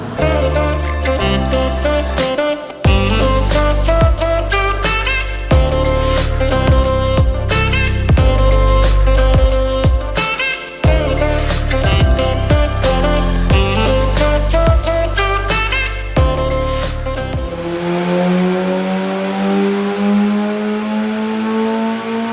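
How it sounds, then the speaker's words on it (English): A supercharged Dodge Viper ACR engine on a dyno, loud and close, revving hard through repeated rising pulls with brief drops between them, then winding down to a lower settling tone near the end. "in today's video we've got the Viper on a dyno"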